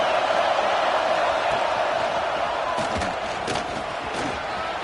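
A football tournament crowd roars steadily in a stadium, a dense continuous wall of cheering with a few thuds and shouts poking through, loud and sustained throughout.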